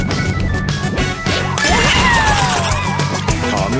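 In a Yoshi game, Yoshi spits a nut that smashes against rocks: a loud, sharp crack and crash, followed by bright chiming game sounds.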